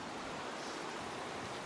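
A river flowing through Janaki forest gives a steady, broad rushing wash of water, even and fairly soft, with no talk.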